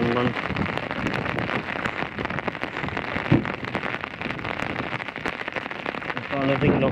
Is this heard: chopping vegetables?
no